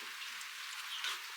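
Rain falls steadily outside on a Nicaraguan coffee farm, a soft, even hiss of drops with faint patters, quiet and continuous with no voices.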